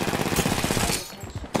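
Rapid gunfire from the battle royale video game Apex Legends, a dense burst of shots close and loud for about a second, thinning into a quieter pause before another sharp crack at the end.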